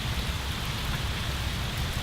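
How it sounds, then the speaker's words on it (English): Steady rain falls on a garden in an unbroken, hissing wash of drops, moderately loud and constant, with no talking. "Just this consistent rain."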